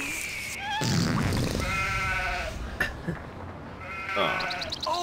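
Several sheep bleat in the farm level of the video game Stubbs the Zombie. The wavering cries are close and repeated, with a few over one another and short gaps between them.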